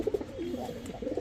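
Racing pigeons of a long-distance flying line coo in a low, throaty pattern, several rolling calls repeating close by and alone at a moderate level.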